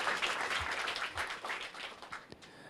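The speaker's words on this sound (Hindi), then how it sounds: "जोरदार तालियां हो जाए हमारे" Lively audience applause for Prashant Kirad at a talk event, a continuous dense patter of many hands with a few sharper individual claps, fading slightly toward the end.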